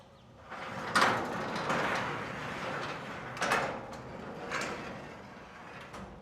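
A newly installed residential garage door running smoothly closed, a steady mechanical rumble with a few brief louder knocks, close by and without talk.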